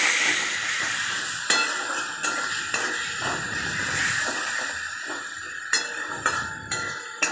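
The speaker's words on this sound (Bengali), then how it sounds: "ভালো করে নাড়াচাড়া করে মশলাটা কষিয়ে নিলাম, যাতে পেঁয়াজ আদা রসুনের কাঁচা গন্ধ না থাকে।" Green chili and garlic paste fries with a spice masala for a banana flower and liver dish, a steady sizzling hiss under repeated spatula scrapes and clinks against the pan, no talking.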